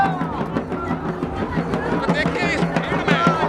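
A dense crowd at a Nandigram road show rally during the last day of election campaigning, a continuous babble of voices and noise with faint music, heard under a reporter's close talk.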